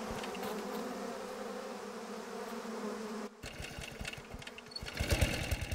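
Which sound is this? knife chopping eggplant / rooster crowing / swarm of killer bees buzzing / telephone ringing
swarm of killer bees buzzing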